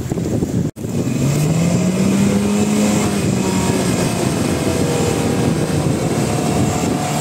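Off-road vehicle on the rear wheels of a tire test, its engine revving hard and steadily as it churns through mud on a salt flat, loud and continuous, with the pitch rising briefly near the start.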